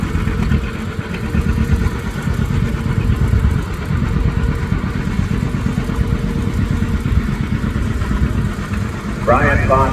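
A polished 1950 vintage family tractor runs at a harvest threshers festival, its engine chugging in a steady, close, loud rhythm while people talk nearby.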